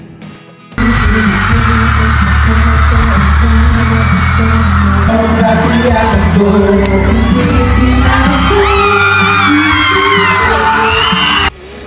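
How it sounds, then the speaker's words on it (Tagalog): Crowd screaming and cheering for a performer as he takes the stage at a concert tour kickoff: loud, sustained shrieks and whoops over amplified music, rising and piercing in places before cutting off abruptly. "Ang lakas lalo ng hiyawan nang makita siya."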